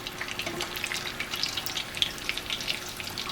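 Shrimp wontons deep frying in hot oil make a steady, close crackle of fine pops and bubbling that carries on alone without talk.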